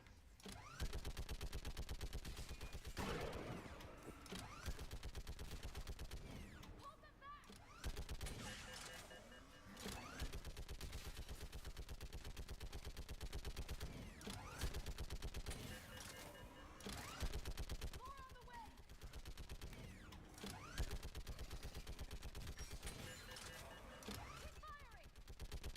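A gun turret firing in the game Mass Effect 3, continuous heavy automatic fire pounding through the whole stretch with brief dips between bursts, under talk and battle noise.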